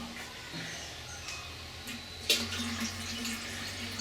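Compost tea mix is poured into a watering can of water. A quiet liquid splash and gurgle swells briefly partway through against low background noise.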